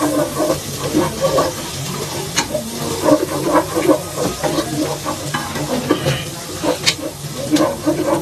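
Onion, garlic and ginger sautéing in a pan for a pares dish, a steady loud sizzle with repeated scraping and clinking stirs, no speech.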